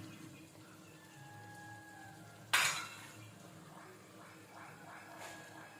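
Half a kilo of mutton tips into a pan of cooked onions and tomato pieces in a quiet kitchen, giving one sharp clattering splash followed by faint soft bubbling.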